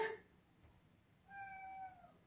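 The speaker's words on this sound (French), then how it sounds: "Vous avez le miaou de Face" A pet cat gives two meows close to the mic, a short one at the start and a longer drawn-out one after a pause, with no talk over them.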